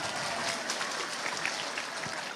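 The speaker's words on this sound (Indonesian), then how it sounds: "Tepuk tangan disit kok." Brief applause from an audience at an Islamic sermon gathering, scattered clapping heard at moderate distance and fairly quiet, without talk over it.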